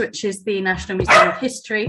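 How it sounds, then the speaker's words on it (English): A pet dog barks indoors during an online workshop call, its bark overlapping a person who keeps talking close to the microphone. "I've got a barking dog"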